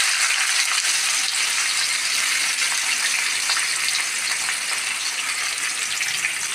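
Raw papaya pieces frying in coconut oil in a pan, giving a steady, dense hiss that carries evenly throughout with no voices.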